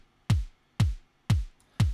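Bass drum from a VCV Rack modular synth patch, with a delay effect whose mix is turned down: four deep, punchy thumps in a steady even rhythm, each with a short decaying tail, alone and clear.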